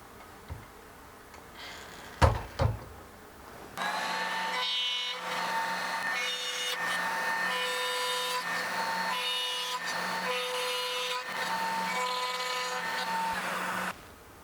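PantoRouter cutting dovetail tails in wood, a few sharp knocks at first and then a loud, steady router whine with a hum for about ten seconds that stops abruptly, close and without talking.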